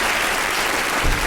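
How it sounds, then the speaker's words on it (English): Studio audience at a radio comedy panel show breaks into steady applause, a dense wash of clapping that holds at an even level across the moment with a slight swell near the end. "Round of applause for Faye Ripley."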